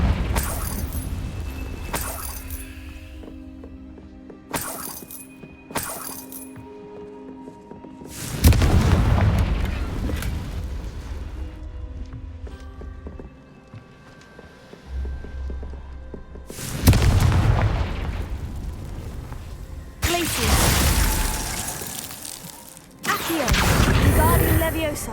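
Bursts of Confringo fire spell explosions in a video game, several broadband booms separated by quieter stretches with background game ambience, some blasts long and rolling.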